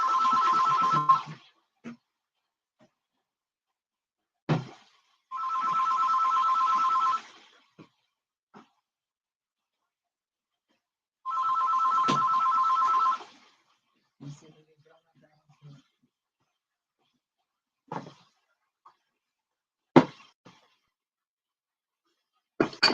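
A phone rings in a kitchen during home cooking of Korean fried chicken, three electronic ring bursts spaced apart with brief clatters and quiet gaps between them.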